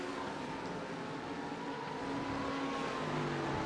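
A Lamborghini race car at Laguna Seca raceway drones steadily, with engine tones rising and falling as it runs through a corner. The sound stays continuous and fairly loud, and there is no speech over it.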